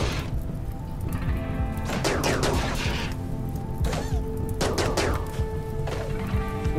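Gunfire during a fight in the video game RimWorld, with repeated bursts of rapid shots over a continuous humming, droning background.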